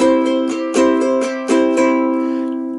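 Steady strummed chords on an acoustic instrument, introducing a song, with rhythmic split-stroke accents roughly every three quarters of a second, then a ringing final chord fading out.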